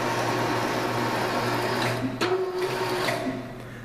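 A lathe spindle hums steadily while a tap cuts threads into a part, with a sustained machine drone that briefly dips and shifts partway through as the spindle is stopped and restarted.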